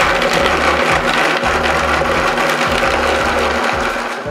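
A blender blitzing dates and pecans for a paleo pie crust, loud steady whirring motor with a rhythmic chugging pulse as the thick mixture churns, close-up, no talking.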